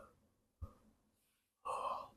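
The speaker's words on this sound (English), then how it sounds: "Still, I'm yawning." A single yawn, a drawn-out breathy exhale near and fairly loud, after a quiet stretch with a soft intake of breath.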